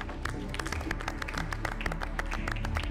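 A burst of applause from a small group, dense overlapping claps held at a steady level throughout.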